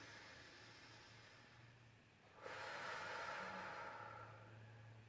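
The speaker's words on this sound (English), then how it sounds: "Breathe in. Breathe out." Slow diaphragmatic breathing: a quiet, hissing inhale that swells and then an exhale fading out, close up, with no talk and a faint low hum underneath.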